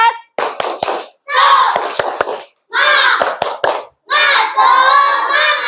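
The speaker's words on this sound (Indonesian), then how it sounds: "Yuk tepuk semangat." A classroom of children does a rhythmic spirit clap, bursts of group clapping and shouted chanting in short patterned phrases, loud and close, separated by brief pauses.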